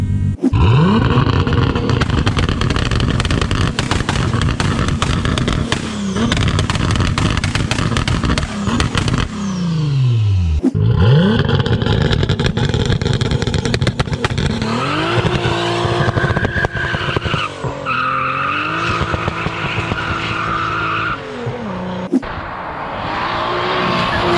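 A 600 hp turbocharged VR6 car accelerates hard with its wheels spinning, the engine roaring loudly through rising revs and gear changes while tires squeal, the sound close and continuous.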